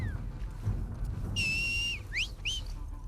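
Enemy whistle signals from the video game The Last of Us Part II: a sustained, wavering tonal whistle followed by two short rising whistles, heard over low background game ambience.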